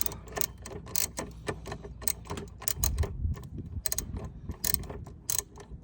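A ratchet with a 10 mm socket works a bolt loose on a 2009 Honda CR-V, giving quick bursts of sharp clicking in irregular runs, close and clear.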